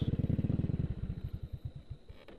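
A motorcycle engine idles with rapid, close chugging pulses that slow and fade within two seconds as it stalls and dies, leaving near silence.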